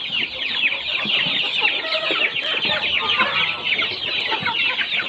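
Many chickens cluck and chatter together at a poultry farm. The dense, steady flock noise fills the whole stretch with no voices.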